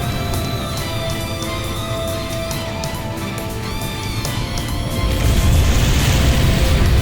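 Burst missile detonation from the Ace Combat 5 video game: a loud, sustained roaring rumble with crackling debris that swells heavier toward the end, with no voices over it.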